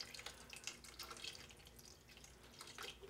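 Water poured into a pot of wild cranberries for jelly, roughly a cup added from a bottle, a steady close splashing and trickling stream with small drips, no talking.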